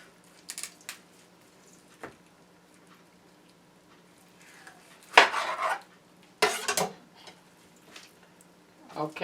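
A knife slices ham off the bone in a home kitchen, giving scattered quiet scrapes and ticks, then a few louder cutting and clattering bursts near the end.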